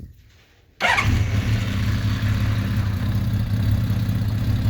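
A 1981 Honda CBX motorcycle fires up from stone cold, its engine catching abruptly after a brief quiet and settling into a loud, steady, rumbling idle close by.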